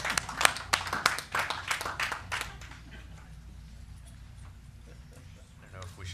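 A brief burst of scattered hand clapping from a small group at a school board meeting fills the first couple of seconds, then fades into quiet room noise with faint murmuring.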